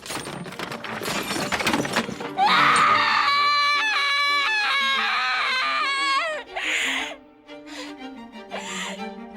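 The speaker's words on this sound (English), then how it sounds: "she smashes her books and lamp off her table in a fit of rage and screams out in pain" An anime girl screams in pain and rage while smashing books and a lamp off her table, loud drawn-out anguished cries with gasps and crashing objects, the screaming rising and breaking into sobbing whimpers toward the end.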